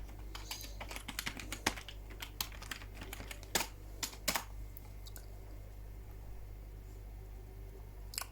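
Keys clatter on a computer keyboard as a new password is entered for an email reset, with quiet, irregular clicks through the first half and a few later taps over a steady low hum.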